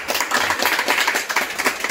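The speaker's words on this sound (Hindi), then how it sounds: "ताली बजा भाई इसके भाई के लिए।" A small group clapping hands to congratulate a candidate on a final SSC GD selection, a dense and steady patter of close claps with no voices.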